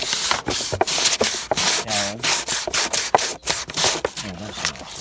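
Sandpaper rubbing back and forth on a 125 cafe racer part in quick, close, loud rasping strokes, steady and continuous, with no talk.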